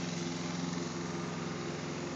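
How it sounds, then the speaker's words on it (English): A lawn mower runs steadily while the lawn is mowed, its small engine droning loudly and continuously with a slight rhythmic pulse and no one talking. "mowing the lawn"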